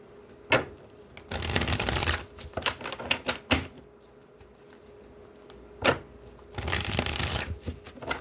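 A deck of tarot cards being shuffled nearby: bursts of riffling, flapping card noise alternate with sharp taps and quieter handling between shuffles.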